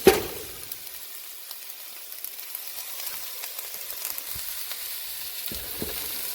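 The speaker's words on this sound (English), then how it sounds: "As I'm cooking them and adding the onions, I'm stirring it around all together" Onions frying in a pot for an old-style onion soup, a steady soft sizzle with occasional light scrapes and clicks of stirring, fairly quiet and close, with no voices.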